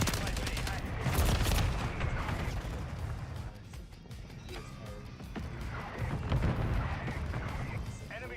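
Video game battle audio with a friendly mortar strike and gunfire: dense, loud bursts of rapid shots and booming impacts that keep going without a break, with radio-style voice callouts mixed in.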